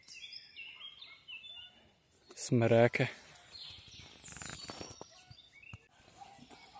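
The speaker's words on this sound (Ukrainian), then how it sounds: "Пташки співають тут." Birds chirp and sing in the background of an outdoor woodland scene in the Carpathians while someone briefly speaks over them.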